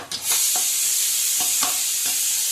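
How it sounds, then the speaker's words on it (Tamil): Ghee poured over mutton biryani in a pot brings a steady close sizzle and hiss, with a few soft stirring or scraping knocks scattered through it. No voices. "இப்போதான் கடைசியாக மிச்சம் இருக்கிற நெய்யவும் ஊற்றிடணும்."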